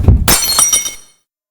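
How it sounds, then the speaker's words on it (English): Glass shatters with one sharp crash, a bright spray of shards ringing and tinkling for about a second before cutting off into silence, close and loud, with a low thump at the start. "the same sound of breaking glass from downstairs"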